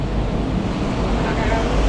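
Heavy rain pouring down at night around a Pinoy 125 motorcycle, making a dense, continuous roar of hiss and rumble with no breaks.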